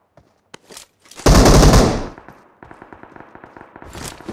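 Shotgun fire in the PUBG video game: a couple of sharp isolated shots, then a loud booming blast, followed by a rapid train of quieter reports.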